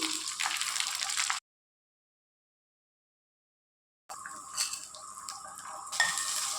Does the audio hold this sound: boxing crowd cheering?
no